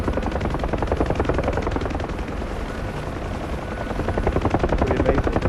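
A Huey helicopter in the DCS flight simulator drones steadily, its loud, rapid rotor thump pulsing evenly throughout with no talk.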